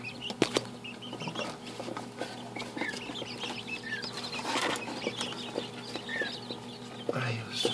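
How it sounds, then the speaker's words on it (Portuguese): Small bobwhite quail chicks peep in soft, scattered high chirps close by, with brief rustles and fluttering of wings among the birds and a low steady hum underneath. "os filhotinhos da Bob White, que filé"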